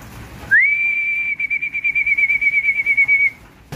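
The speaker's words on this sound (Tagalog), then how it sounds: "So kailangan masanay sila sa sipol ko." A person whistles one long, steady high note to call chickens, then breaks into a quick warbling trill, clear and close against quiet background.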